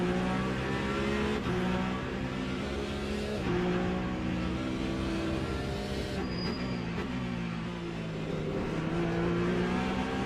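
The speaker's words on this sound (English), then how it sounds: "The sights and sounds of LMP LMP3, LMP1, the hypercars" Several LMP3, LMP1 and hypercar prototypes race past at Imola, engines roaring loud and continuous with rising and falling pitch as they pass.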